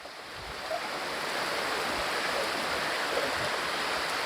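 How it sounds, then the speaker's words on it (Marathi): Heavy monsoon rain pours in the Konkan region, a dense, unbroken hiss that holds steady and loud throughout with no voices over it. "हा बघा कोकणामधला मुसळधार पाऊस आहे"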